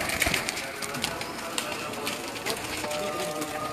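Teddy pigeons coo softly amid a busy loft ambience with fluttering and scattered taps. Short low calls repeat faintly over a constant background hiss.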